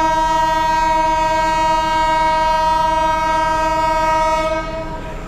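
A train horn sounds at Kamalapur railway station for the Chattala Express, one long, steady, loud blast that holds for over four seconds and then cuts away, leaving a quieter station hum.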